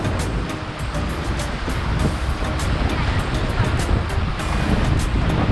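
River rapids roaring around a raft on a river at the Statue of Unity in Gujarat, a loud, continuous wash of churning water and wind buffeting the microphone, with voices partly buried in the noise.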